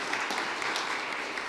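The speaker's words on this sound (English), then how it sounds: "Big round of applause" A crowd at a colorectal cancer awareness press conference applauds, a steady dense wash of many hands clapping at once, somewhat distant and moderate in level, lasting the whole moment.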